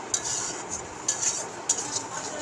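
Small river prawns fry with sugar in a pan for chingri chorchori, as a metal spatula clinks against the pan three or four times over a faint, low sizzle.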